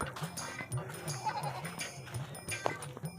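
A goat bleats in repeated, wavering cries close by, with soft background noise and some talk mixed in.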